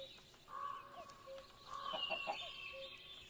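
Minecraft chickens clucking in a game, short pitched clucks scattered through a steady background of game ambience, moderately quiet with no voices.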